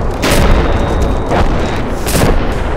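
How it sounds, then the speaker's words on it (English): Heavy booming artillery blasts in the military video game Arma, a couple of loud rolling explosions over a dense, continuous rumble with no talk. "We were being artilleryed."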